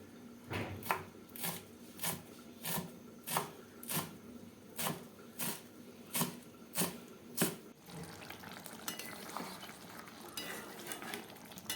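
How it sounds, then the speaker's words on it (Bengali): Coriander leaves chopped with a knife on a board in a home kitchen, about a dozen steady, evenly spaced close chops, followed by a softer rustle and scrape with no talking. "এবার আমি ধনিয়া পাতাগুলো কুচিয়ে নেবো"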